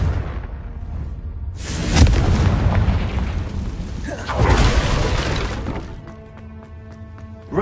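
In Hogwarts Legacy, a Confringo blast spell explodes with heavy booming crashes and shattering debris, two loud impacts a few seconds apart, followed by lighter clattering game effects.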